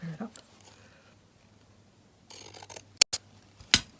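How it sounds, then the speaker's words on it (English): Pinking shears snip through fabric during slow stitching, giving a few short, crisp crunching cuts near the end, close and fairly loud over a quiet room hum. "Using pinking shears to get another layer of texture in there."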